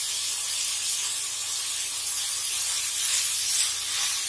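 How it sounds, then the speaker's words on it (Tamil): Tomatoes, coriander stems and chillies sauté in a hot pan for a Punjabi chicken gravy, giving a steady close sizzle and hiss with no voices. "நல்லா வதக்கி விட்டுடுங்க."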